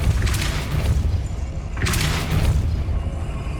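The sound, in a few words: Depulso spell cast in video game Hogwarts Legacy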